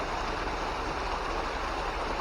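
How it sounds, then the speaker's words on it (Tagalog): A waterfall that appeared after a landslide rushes steadily with a dense, continuous roar, close by and alone with no voices. "Yung biglang nagkaroon ng waterfalls."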